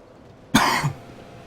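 A single harsh cough bursts out close and loud, lasting about a third of a second, then trails into a low throaty rasp before quiet returns.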